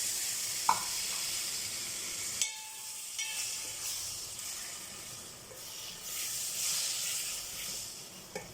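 Three chopped tomatoes hit hot oil in a pan of masala for rajma curry, giving a bright continuous sizzle and hiss with a few spoon scrapes and knocks, moderately close and with no talk.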